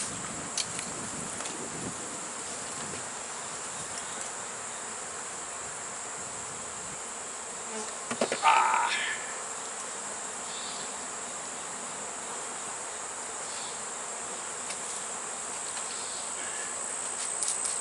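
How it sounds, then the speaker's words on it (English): Robber bees buzz around an open hive being worked, a steady insect hum with a brief louder burst of close wingbeats near the middle. "Daggone robber bees."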